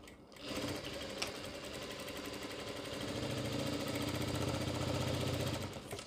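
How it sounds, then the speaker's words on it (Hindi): A sewing machine stitches a ladies' scarf mask in a steady, continuous whir that holds close and even for several seconds, with no talking. "एक सिलाई ये भी इस तरीके से लगाएंगे"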